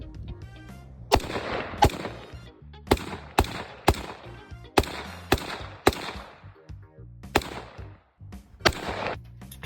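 Sharp gunshots from a Radical Firearms AR rifle chambered in 7.62x39 with a 16-inch barrel, about a dozen loud cracks fired at an irregular pace with ringing echoes, heard close and alone.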